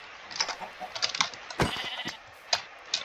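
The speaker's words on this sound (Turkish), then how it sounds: "Artık Koyunlar var pardon." Blocky video-game sheep bleat in a Minecraft-style world. Several short, bright bleats come at uneven intervals over a steady hiss, with no talking.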